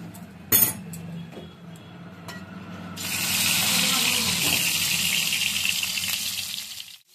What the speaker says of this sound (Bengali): এবার এই তেলটা গরম হয়ে গেছে, ডিমগুলোকে আমি ভেজে নেব।